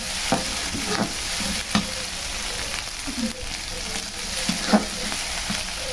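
A spice paste sautéing in a pan sizzles steadily, with repeated spatula scrapes and knocks from stirring breaking through at irregular intervals, close by.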